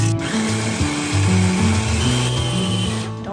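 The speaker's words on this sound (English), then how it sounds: "Let's ruin our grinder." A home coffee grinder runs on coffee beans mixed with Carolina Reaper pepper, giving a steady loud motorized whir with a shifting low pitch throughout, no talking over it.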